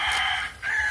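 A gamecock crows once, a short, loud, close call that breaks briefly in the middle.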